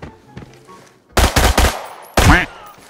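Automatic weapon fire in a shooter game comes in two loud bursts of rapid rattling shots, a short cluster of rounds and then a final blast, after quieter scattered noises.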